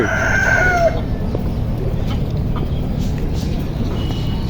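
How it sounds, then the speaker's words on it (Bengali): Fighting chickens give a loud, close rooster crow at the start, followed by scattered clucking over a steady rural background hum. "দেখেন এই যে আবার মুরগির কাম দেখো মুরগ মুরগি মারামারি লাগছে"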